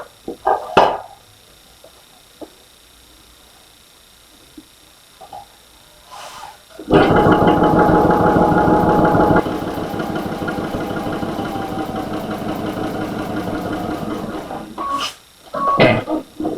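Sewing machine stitching a carpenter's star quilt, a steady loud mechanical whir starting after a few quiet seconds and running continuously, with brief talk at the start and end.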